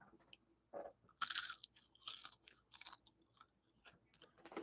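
Caramelized food crunched while chewing close to the microphone, with irregular crisp bites and crackles between quieter mastication, faint and intimate.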